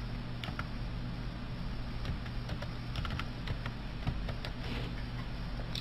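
Rapid clicking keystrokes on a computer keyboard as a username and ID are typed in, close and fairly quiet over a low steady hum, with no talk.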